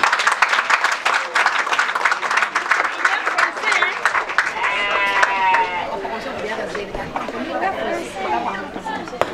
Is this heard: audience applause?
yes